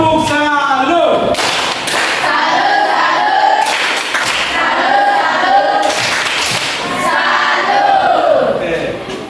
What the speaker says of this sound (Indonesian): Oke, tepuk salut.